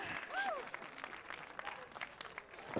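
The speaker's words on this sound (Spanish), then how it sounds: "Con un fuerte aplauso." Audience applause at an evening contest show in the Basque Country, a moderate wash of clapping with a brief whistle-like tone early on and some crowd noise mixed in, lasting throughout.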